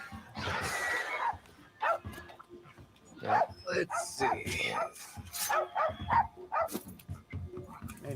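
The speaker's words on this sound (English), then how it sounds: "Man, your dog is going nuts." A dog barks and yips excitedly in a room during Monster Hunter Rise gameplay, the bursts scattered and fairly close, mixed in with ongoing talk from people nearby.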